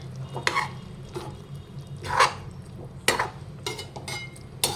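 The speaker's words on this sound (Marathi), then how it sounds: "हे सगळं मिक्स करून घ्यायचं आपल्याला" Chicken being stirred with homemade masala and salt in a pot, with several distinct scraping strokes of a spoon against the vessel over a low background hum, near and moderately loud, no talk.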